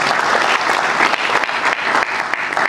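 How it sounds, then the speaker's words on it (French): A crowd at a Congolese youth event claps energetically, loud and dense, with uneven surges and a few louder individual hits in the steady applause, and faint voices mixed in. "Je demande encore des applaudissements pour lui."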